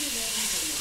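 Onion, garlic and stir-fry vegetables in a hot pan give a steady, close sizzling hiss that stays even throughout the brief moment.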